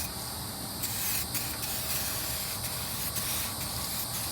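A spray can lays heavy coats of quick-drying coating in a continuous close hiss, with a few brief breaks and pulses as the nozzle is pressed and released.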